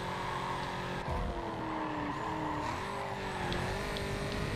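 A Corvette race car in Need for Speed Carbon screams at top speed, a steady loud engine drone with pitch climbing through shifts and faint tire squeals, close and unbroken.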